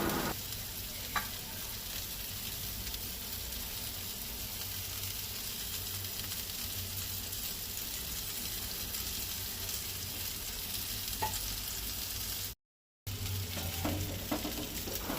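Pomfret fish fries in hot oil, producing a steady, moderate sizzle close by, with a few faint stirring clicks and a brief dropout near the end.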